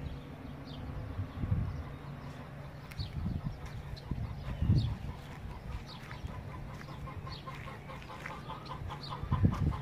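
Chickens clucking in a garden, a low, busy farmyard murmur of soft clucks at moderate distance, with occasional louder calls and rustling.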